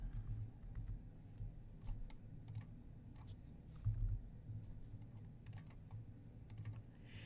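Quiet, steady typing on a computer keyboard, with soft irregular key taps over a low background hum and no talking.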